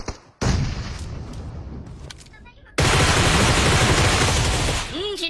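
Gunfire in a video game comes in dense bursts of rapid shots, the first burst loud and then dipping, followed by a second louder sustained barrage, with a voice briefly audible.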